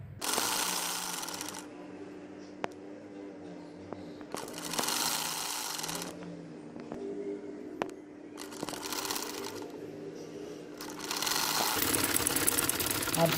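An electric sewing machine stitches a lehenga in several loud bursts of rapid whirring, separated by quieter pauses where someone talks.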